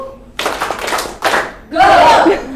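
A group claps hands together during a rhythm game, giving three bursts of clapping separated by short pauses, the last one louder and longer, with voices calling out over it.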